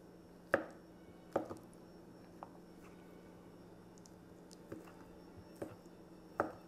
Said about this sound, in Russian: и нарезаю маленькими кубиками, чтобы было удобнее есть